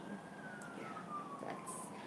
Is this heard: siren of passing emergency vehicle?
yes